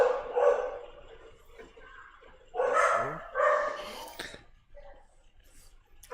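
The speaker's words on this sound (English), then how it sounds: "I hear the dogs" Dogs bark during a tabletop role-playing game, a few short, rough barks in separate bursts with quiet gaps between them, fairly close and loud.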